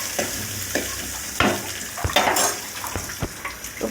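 Onions frying with mustard seeds and curry leaves in a pan, a steady hissing sizzle broken by repeated sharp scrapes and clinks of a spoon stirring, close and moderately loud, with no talking.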